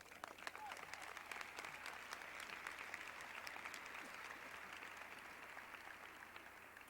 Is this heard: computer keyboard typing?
no